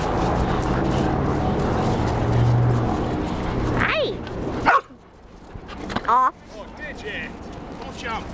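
Dogs bark and yip close by, with whining cries between barks, over a busy background of other noise and a person talking.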